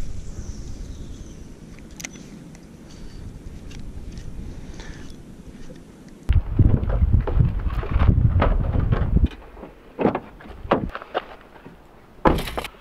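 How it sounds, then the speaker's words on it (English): Cold wind gusting across a lake bank, a steady low roar buffeting the microphone that surges louder midway, with irregular thumps and knocks in the later gusts. "it was cold, the wind was blowing right at me"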